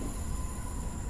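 A Keihin Tohoku line commuter train runs in Train Sim Classic with a steady, close rumble and a faint high whine, continuous throughout with no talking.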